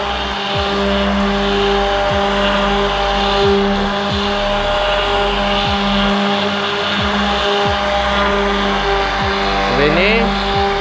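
An HL 9000 electric sander working a wooden piece gives a steady, close motor drone with a constant tonal hum and brief grinding pulses as light pressure is applied, running continuously with no talk.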